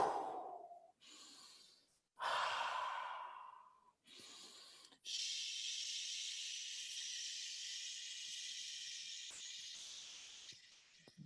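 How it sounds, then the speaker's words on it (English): Slow breathing exercise with a sighing exhale, a short gasp-like inhale and a long steady hissing outbreath, all close and quiet with no talking. "You can play with breath sounds, combining breathing with different sounds."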